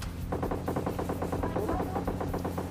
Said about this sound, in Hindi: ये गोलियां जैसे मेरी गाड़ी की भिड़ी ना